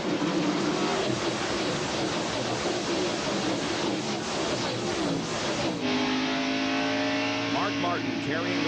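Pack of NASCAR stock cars roaring away at the start of the 1992 Food City 500 at Bristol's steeply banked short track, a dense, loud engine drone that rises in pitch, with a commentator talking over it.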